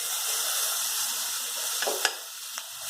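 Two squeezed tomatoes hit a hot pan for simple rasam and sizzle steadily and close, with a couple of sharp spatters or clinks near the end.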